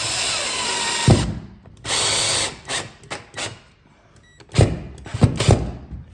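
A power drill whirs in several bursts, a longer run followed by short stop-start pulses as a screw is driven directly into a shelving panel, with knocks between.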